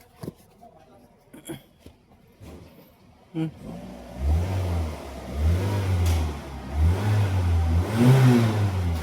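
A Toyota RAV4 with a faulty oil sensor that had not been running catches and starts, then revs in repeated rising swells of engine noise, close by, after scattered clicks and knocks; people talk faintly underneath.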